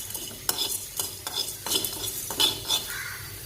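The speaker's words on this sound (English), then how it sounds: "Just for a few minutes you dry roast it" Spices dry roasting in a pan over low flame, a spoon scraping and stirring them in repeated strokes with soft crackling and light metallic clinks, close and clear with no talk.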